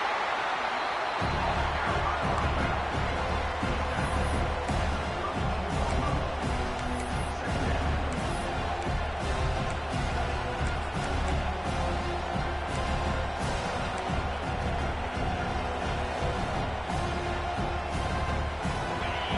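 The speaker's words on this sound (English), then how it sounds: "this monotone crowd is fired up and ready to make a difference today" Stadium crowd noise from a college football video game, a steady dense roar of cheering that runs throughout at even loudness with no talk over it.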